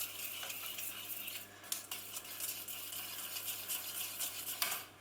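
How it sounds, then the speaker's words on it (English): Nutritional yeast flakes and vegetable stock powder stirred in a pan, soft faint scraping and light metallic clinks of a utensil over a low steady hum, with no speech. "Give that a good stir."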